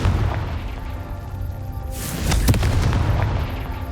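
Confringo fire spell explosion in the game Hogwarts Legacy: a sudden booming blast lands midway, followed by crackling bursts over a steady low rumble of battle noise.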